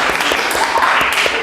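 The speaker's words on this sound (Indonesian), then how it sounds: "Tepuk tangan untuk kelompoknya Mas Brian" An audience claps for a student group's presentation in an economics classroom: dense, steady applause from many hands, loud and close, lasting the whole stretch.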